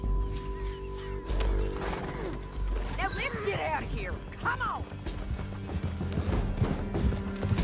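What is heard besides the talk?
horse galloping in video game Red Dead Redemption 2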